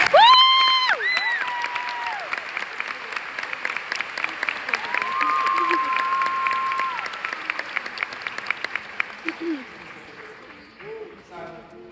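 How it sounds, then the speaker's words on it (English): A graduation ceremony audience claps in a steady, sustained round of applause, with a few high whoops and cheers near the start, tapering off toward the end. "So can we please give a round of applause to our"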